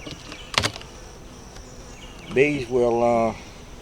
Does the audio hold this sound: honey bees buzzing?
yes